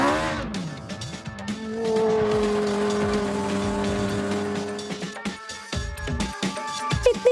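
A race car in a racing simulator holds a steady droning engine tone, then tires squeal and skid in sharp bursts toward the end, loud with no talk.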